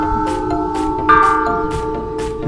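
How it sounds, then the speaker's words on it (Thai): Several temple bells ring one after another with bright, lingering metallic tones that overlap and sustain, heard close by without any talking. "นี่นะครับเป็นระฆังนะครับเป็นระฆังบริเวณล้อมรอบเลยนะครับ"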